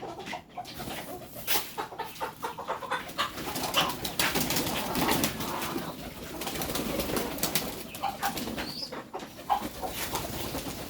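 Pigeons coo in a loft at feeding time, soft repeated throaty coos overlapping with faint rustling and wing flutters, close by and steady.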